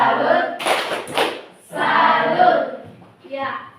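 A school class gives a rhythmic salute clap in short bursts of hands together, mixed with children's voices calling out between the clapping.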